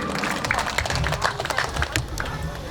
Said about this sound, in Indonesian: Kasih tepuk tangan Bapak. Kita berikan aplaus dulu.